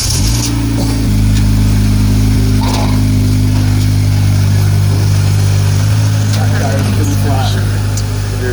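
A wrecked Copart salvage car's engine starts and settles into a steady, loud idle with a low rumbling hum, rising briefly in a rev toward the end, nearby and close up.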